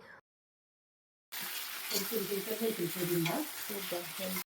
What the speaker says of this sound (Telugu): ఇప్పుడు ఇందులో సరిపడా ఉప్పు వేసుకుని కలుపుకుని రెండు నిమిషాలు మగ్గించుకోవాలి